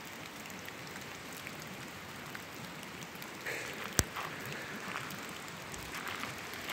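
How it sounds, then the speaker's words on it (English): Steady rain falls outdoors with a constant, moderately faint hiss of drops on surfaces, with one sharp click near the middle and no talking. "I wish it would quit raining so I could clean this up soon."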